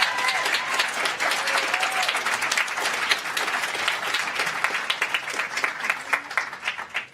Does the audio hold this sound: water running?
no